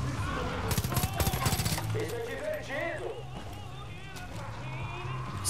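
Gunfire in the video game Far Cry 5 while fighting zombies: a rapid burst of automatic shots near the start, then scattered game effects and quieter action underneath.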